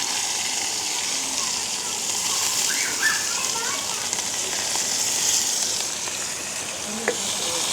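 Onion, dried chilli and curry leaves fry in hot oil, giving a steady, broadband sizzle that runs throughout at moderate level, with a few faint clinks and outdoor sounds in the background.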